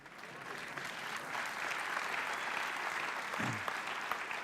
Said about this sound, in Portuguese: É um bom lugar para aplaudir.